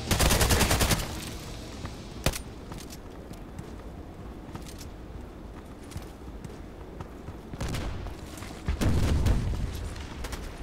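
Rapid gunfire bursts from the shooter game Contract Wars, a loud volley at the start and another near the end, with scattered single shots and distant firing between them.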